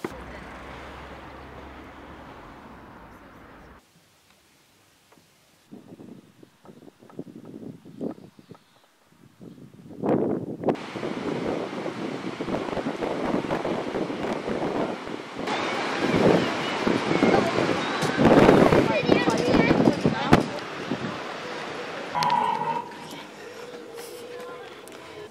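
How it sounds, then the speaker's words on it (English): Strong wind gusts roar and buffet the microphone on the seafront at Hunstanton, with surf rushing underneath, the noise building and staying loud after a quieter start. "it's very windy right now"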